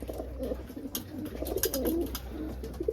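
Racing pigeons at a loft coo in soft, repeated low phrases, a steady murmur of several birds close by with a constant low hum underneath.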